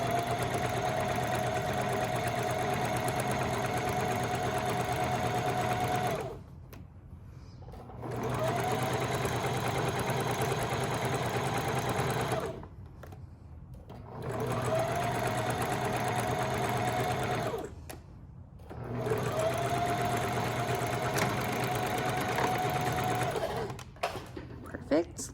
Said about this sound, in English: we're gonna sew our final side and backstitch when we get to the end.